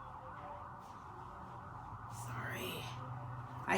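A faint siren wails in the distance, rising and falling as an emergency vehicle passes, heard under a low steady background hum.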